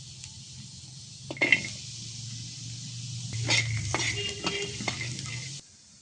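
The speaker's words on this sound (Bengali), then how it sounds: "এখন দিয়ে দিতেছি রসুন আর পেঁয়াজ একসাথে ভাজিয়ে নিলাম" Garlic and onion frying together in hot oil for a broken-rice bharta meal, giving a steady close sizzle with bursts of stirring and utensil scraping against the pan, and no talk.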